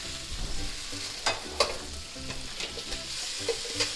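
Chicken stir fry sizzles steadily in a Gotham pan after a soy glaze is added, with a constant frying hiss broken by several sharp clinks and scrapes of stirring.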